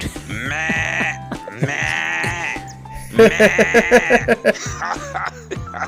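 A goat bleat sound effect: two long, loud wavering bleats, then a rapid stuttering run of shorter bleats, all close and clear with no talk.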